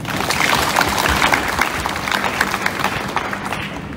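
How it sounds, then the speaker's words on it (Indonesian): Audience applause at a school foundation's flag ceremony, a busy, fairly loud round of clapping from many people that continues steadily throughout with no talk. "Tepuk tangan buat kita."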